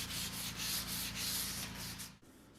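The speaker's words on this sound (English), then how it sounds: "I've got a fine piece of 220 sandpaper. I'm just going to very lightly clean up the edges." Fine 220-grit sandpaper is rubbed lightly along the edges of a wooden coat rack, giving close, continuous soft scratchy strokes in a quick rhythm that stop abruptly near the end.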